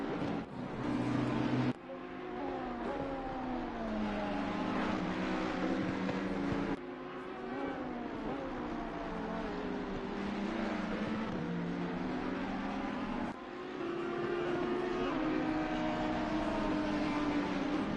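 Race car engines lapping the Zandvoort circuit in a racing video game, a continuous loud roar with rising and falling gear-shift pitch and a few abrupt cuts between shots.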